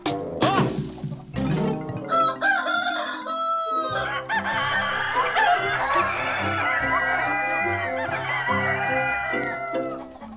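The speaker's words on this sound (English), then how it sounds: "But why did he crow?" A cartoon rooster crows loudly at dawn, a drawn-out cock-a-doodle-doo up close, followed by clucking over bright background music.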